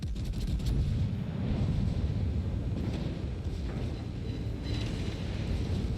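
Heavy naval guns fire from a battleship in World of Warships, with deep booming blasts and rumbling roars over continuous low battle noise, close and loud, without speech.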